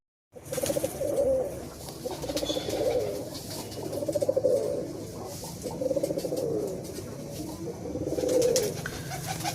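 Punjabi pigeons coo repeatedly in soft, throaty rolling phrases, several overlapping calls close by, rising and falling over a low background rumble.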